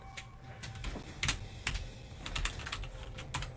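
Computer keyboard keys clatter in quick, irregular presses while Mortal Kombat X is played, the close, soft clicks landing over a faint low background hum.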